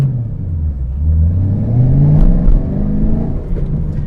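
A 2013 Chevrolet Camaro ZL1 with 130,000 miles growls loudly up close, its engine note rising and sweeping in pitch as it revs under way, with steady road rumble beneath.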